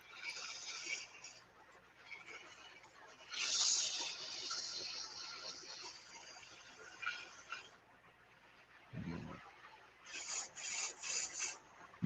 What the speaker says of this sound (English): I'm going to go ahead and sand the tenon now